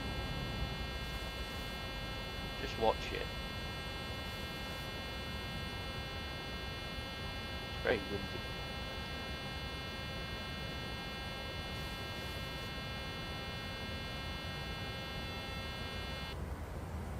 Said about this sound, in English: Now the gear's fully down, that stupid alarm's come off.